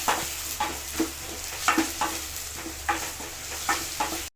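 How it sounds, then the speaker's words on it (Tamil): Eight garlic cloves sauté in a pan with a continuous sizzle, punctuated by regular scraping taps as they are stirred. "எட்டு பல் பூண்டு அதையும் சேர்த்து நல்லா வதக்கிக்கலாம்"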